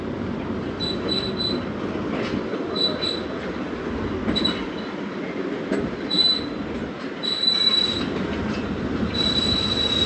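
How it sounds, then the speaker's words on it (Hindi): The Karakoram Express pulls out near Karachi with a loud, steady rumble of rolling cars, broken by repeated high wheel squeals that grow longer toward the end. "अब कराक्रम एक्सप्रेस रवाना हो रही है"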